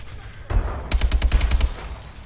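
Gunfire in Call of Duty: Advanced Warfare: a single loud shot, then a rapid automatic burst of about eight close, punchy rounds before fading to quiet.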